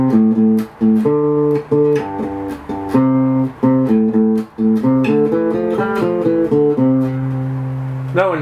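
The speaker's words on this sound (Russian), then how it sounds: "давайте я вам еще покажу басовую партию в этой песне быстренько." A bass line from a song is played on guitar as a repeating loop of low, sustained plucked notes, played close and clear with no voice over it.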